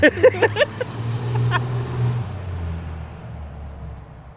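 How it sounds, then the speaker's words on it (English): A diesel pickup truck passing on a road at night, a low engine drone that swells and then fades into the distance after a few sharp knocks at the start. "that was a diesel pickup"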